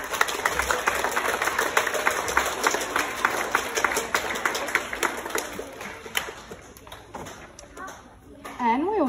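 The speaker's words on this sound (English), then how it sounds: "can you give the Infants Gold Awardees a big clap for me?" An audience at a school gold awards assembly claps for the infants award winners, a crisp and fairly close patter of many hands that thins out toward the end. A voice is heard briefly near the close.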